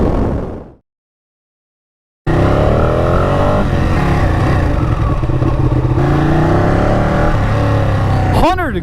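A Ducati Panigale motorcycle fades out, then roars back after a stretch of silence as a loud, close, sustained engine drone with shifting revs, ending in a brief rising whine.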